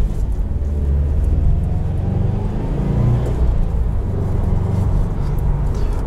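A 2020 Subaru WRX STI Limited with a boxer engine and unequal length headers rumbles low and throbbing, swelling slightly in waves as the revs rise and fall, loud and close.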